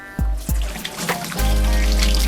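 Marinade for fried chicken poured into a bowl of chicken in a home kitchen, a steady close liquid trickle and splash with a couple of soft thumps at the start.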